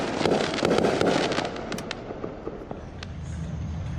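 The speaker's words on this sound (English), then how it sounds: "Yay, we still got fireworks." Amateur fireworks going off at night in Kansas City, a dense rolling crackle with scattered sharp pops that gradually thin out, heard from a moderate distance with no talking.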